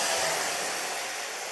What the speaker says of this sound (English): So the tool in my left hand and the blow dryer in my right.